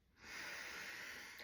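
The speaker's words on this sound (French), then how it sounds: "Je t'invite à prendre une profonde inspiration par le nez." A slow, deep breath drawn in through the nose, a soft airy hiss that builds quickly and holds steady for just over a second, quiet and close.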